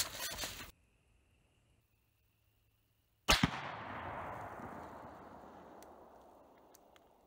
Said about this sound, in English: we're gonna take the 30-06 and we're gonna run a 165 grain ballistic tip right into one of those AR mags that I've got on the pouch